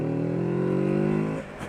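A Kawasaki Z650 parallel-twin motorcycle engine revs up in a strong, steady rising drone held for over a second, then cuts back sharply, close and loud with no talking.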